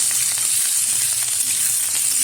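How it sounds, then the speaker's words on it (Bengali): Chopped onion, fresh coriander and a green chilli sizzle steadily in hot oil, a continuous bright frying hiss at close range with no talk. "এখন দিয়ে দেবো এর মধ্যে কুচিয়ে রাখা পেঁয়াজ আর কিছুটা ধনেপাতা আর একটা কাঁচা লঙ্কা। ভালোভাবে তেলের সাথে নেড়ে ফেলে নেব।"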